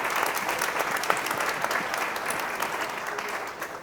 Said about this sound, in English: We can have a round of applause for our fantastic panelists.